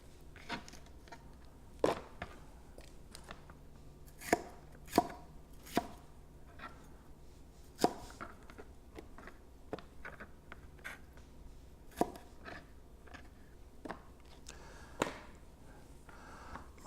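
A knife chops vegetables coarsely on a cutting board in scattered, crisp taps, some sharper and louder than others, close up with no talking.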